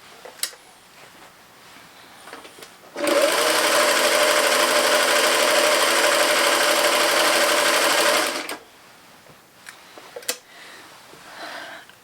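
A sewing machine stitches fabric in a steady, fast, even whirr that runs for about five seconds, loud and close, framed by quiet handling sounds before and after.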